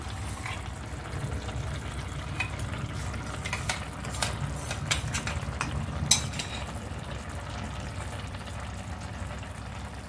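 Cashew and poppy seed paste cooking into chicken rezala in a pan, a steady low bubbling simmer with occasional stirring scrapes, close and moderately quiet throughout.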